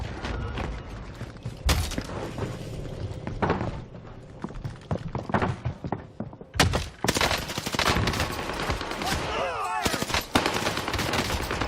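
Video game gunfire crackles almost continuously in dense rapid bursts and scattered single shots, loud and close, with a busy mix of other game sounds throughout.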